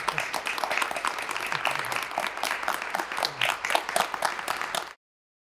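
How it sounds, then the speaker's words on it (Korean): A room of supporters at a bar association election erupts as the winner of the Seoul Bar Association presidency is announced, dense crowd applause and cheering that runs loud and continuous before cutting off abruptly near the end. "각 후보 캠프에선 탄식과 환호가 교차합니다"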